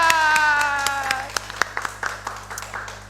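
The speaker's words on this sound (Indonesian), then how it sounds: "tangan." A few people clap sparsely to welcome a speaker at a talk session, scattered individual claps under a fading ringing tone over a low steady hum, thinning toward the end.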